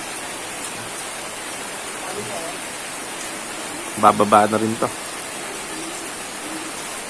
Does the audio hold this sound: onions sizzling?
no